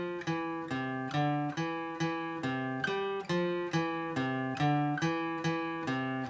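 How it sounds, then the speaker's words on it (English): Guitar picks single notes of a beginner arrangement of a song, each note plucked in an even rhythm and ringing briefly before the next, clear and close with no voice. "just practice picking those notes in rhythm with the song"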